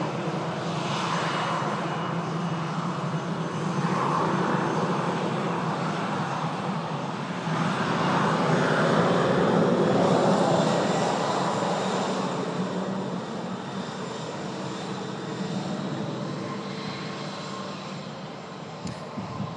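Aircraft engines hum in a steady, moderately distant rumble at an airport as a Brussels Airlines plane crosses the active arrivals runway, swelling slightly midway and then easing.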